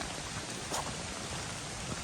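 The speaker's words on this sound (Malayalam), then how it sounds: "അതുകൊണ്ട് ഇത്തിരി മഴയൊക്കെ കൊള്ളേണ്ടി വരും" Rain falls on a forest trail during a monsoon walk, a faint, even hiss of drops on leaves and ground with no voices.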